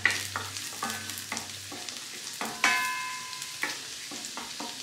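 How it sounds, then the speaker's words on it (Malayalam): Chopped garlic sizzles in hot butter in a pan, a soft steady frying hiss broken by a few light clinks and stirring scrapes, with no voices. "ബട്ടർ നന്നായിട്ട് ചൂടായിട്ടുണ്ട് അതിലേക്ക് നമ്മൾ വെളുത്തുള്ളി ഇടാം"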